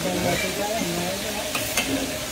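Lard sizzling in a pan during cooking of fish pinangat: a steady, loud frying hiss throughout, with soft stirring scrapes and a voice talking faintly over it.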